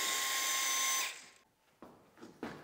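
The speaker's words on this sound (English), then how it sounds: "Bump your drill speed down to 1 for a little bit more torque." A cordless drill on low speed drives a threaded rail bolt into a wooden newel post for a handrail, giving one steady high whine that stops, followed by a few short bumps and handling sounds nearby.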